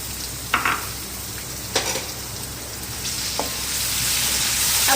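Tomatoes and green chilies fry in a pan with a steady sizzle, broken by a few sharp stirring scrapes and clatters, the sizzle swelling louder toward the end.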